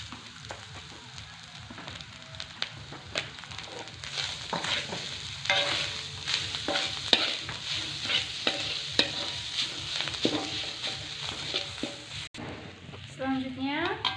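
Grated coconut stirred in a pan for Indonesian urap, a steady scraping and sizzling close by, with a spatula working through it in repeated strokes and no voices over the cooking.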